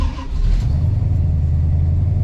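1965 Ford Mustang V8 starting and revving, a loud, close, deep rumbling engine note that swells right after the start and then holds a steady throaty idle.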